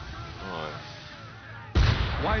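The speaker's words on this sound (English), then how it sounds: "Why is he shooting at us?" A ship's cannon in Assassin's Creed III fires once after a quiet stretch of low ambience and a faint voice, a sudden loud boom followed by a rumbling tail.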